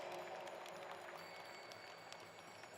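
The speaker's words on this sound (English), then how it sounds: "Let's give them once again a big round of applause for their guidance." An audience at a science, religion and philosophy parliament applauds steadily, a faint, dense wash of clapping that holds evenly throughout.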